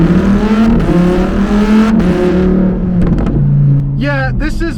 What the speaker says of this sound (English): As soon as you just tap on the gas and let go, those pops are going to start